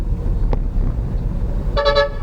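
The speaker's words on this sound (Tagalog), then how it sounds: "naririnig nyo siguro nagbubusina na sa kaliwa sila" A short vehicle horn toot, then a louder triple blast of a bus horn near the end, over low traffic rumble.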